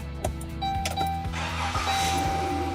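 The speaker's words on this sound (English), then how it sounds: "It asks you to please start the engine." A car engine cranks with a rhythmic churning of the starter during a battery cranking test, then catches and settles into a steady running idle, close by and fairly loud.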